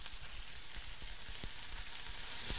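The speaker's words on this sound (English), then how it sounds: "Saute this. Saute this. And then put a tiny bit of wine." Shrimp sautéing in a hot pan makes a steady, dense sizzle with occasional sharper pops and crackles, loud and close with no talking.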